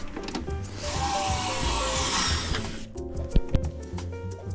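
Screws are driven into the wooden back of an old pendulum clock with a power screwdriver, a steady whirring, grinding run for a few seconds, then a short pause and a few sharp knocks and clicks.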